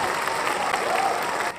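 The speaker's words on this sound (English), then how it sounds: "Let me put the cheering on." A canned crowd-cheering sound effect plays in a studio show segment, a short burst of applause and cheers lasting under two seconds before cutting off.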